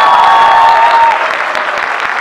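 Loud applause from the audience at an art college alumni meet, close and full, with a steady sustained tone underneath at first, then easing a little in volume.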